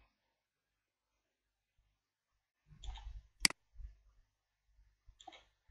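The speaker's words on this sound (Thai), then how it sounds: "คลิกเพิ่มจุดเข้าไป1ครั้งนะครับ แล้วก็ปล่อยเมาส์" A computer mouse during Photoshop editing: a few sparse, soft clicks in near silence, one sharper click in the middle, with a little faint handling noise around them.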